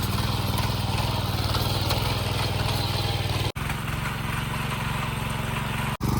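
A tractor engine drones steadily and loudly while digging turmeric in a field, with a low, even rumble. The sound drops out briefly twice.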